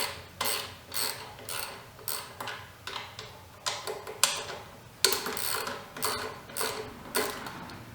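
Ratchet wrench cranking loose the 12mm throttle body bolts on a Mitsubishi 3000GT, a steady series of close, sharp clicking bursts in regular strokes with brief pauses between them.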